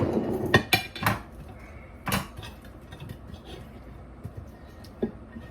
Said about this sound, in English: I got my knife so I can cut me off a little piece of the meat